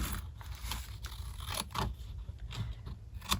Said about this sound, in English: let's cut it down a little bit and round that corner a little bit so it's not so sharp